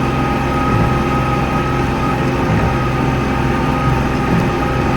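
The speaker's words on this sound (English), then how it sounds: "I can barely make it through here in a four-wheel drive tractor." A four-wheel drive tractor engine rumbles steadily and loudly at close range while pushing through deep snow on an unplowed road during a Vermont snowstorm, a constant low drone with no break.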